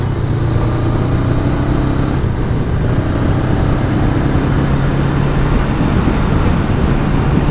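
A Honda Rebel CMX 500 custom motorcycle is ridden on the road, its engine holding a steady, loud low drone mixed with constant wind rush.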